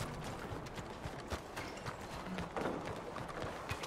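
Quiet, continuous hoof clip-clops from a horse in Red Dead Redemption 2 patter at a distance over soft ambient noise, with no one talking.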